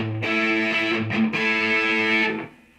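A distorted electric guitar plays a few sustained, buzzing chords through a Boss Katana Artist MkII amp with the booster off, loud and up close, then rings out and cuts off.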